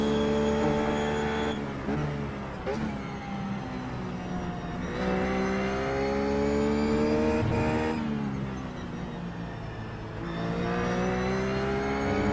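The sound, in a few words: Ruf GT3 race car engine at Sebring, iRacing video game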